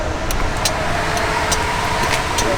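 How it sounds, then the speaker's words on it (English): A 2015 Kymco My Road 700 scooter engine idles steadily and loudly, a constant close hum with a few faint ticks on top and no speech. "You just got to give it a tad bit of gas when you fire it up, and then it just runs fine."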